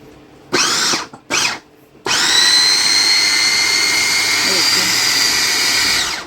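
Portable electric mixer-chopper for finely chopping meat gives two short motor bursts, then one long continuous high-pitched whir, loud and close.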